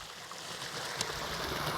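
Water gushes under pressure from an irrigation pipe into a farm field as a steady, dense rushing roar, close and continuous, with no voices.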